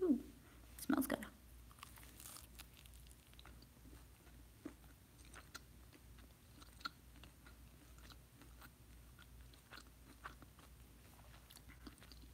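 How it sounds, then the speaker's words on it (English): Someone bites and chews a slice of Papa Johns gluten-free pizza topped with mushrooms and pepperoni, a crisp bite at the start followed by faint, close, soft chewing. "I'm gonna take a middle slice. I'm gonna get some with the mushrooms and pepperoni on it."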